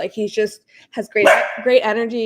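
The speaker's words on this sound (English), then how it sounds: "Sorry about my dog." A dog's excited bark cuts in briefly and loudly in the middle of a man's ongoing speech, mostly masked by the talking.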